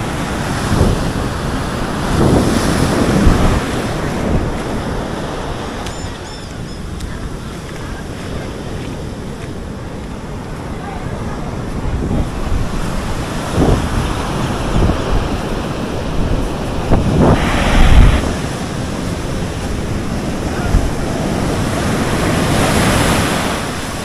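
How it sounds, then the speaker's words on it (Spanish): Surf rolls onto the golden-sand beach of Los Almendros in Acajutla, El Salvador, with repeated washes of breaking waves, gusty wind buffeting the microphone and occasional surges louder than the rest. "qué bonita está esta playa"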